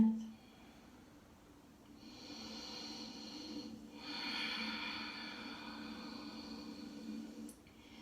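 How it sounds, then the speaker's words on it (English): Slow, soft nasal breathing during a deep total-body yoga stretch, close and quiet, with a long inhale swelling and a second breath following after a brief pause. "Listen to the sound of your breath."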